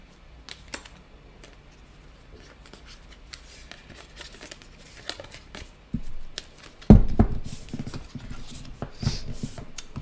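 Tarot cards sorted and shuffled by hand, with soft scattered card flicks early on and a burst of louder, denser riffling and thumping near the end, with no talk.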